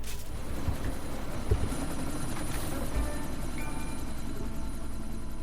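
A helicopter in the video game Deus Ex: Mankind Divided gives a steady, loud rotor drone with a low throb that holds without a break, with no talk over it.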